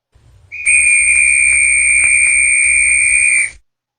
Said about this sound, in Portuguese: E esse é o som do apito, que é um som mais agudo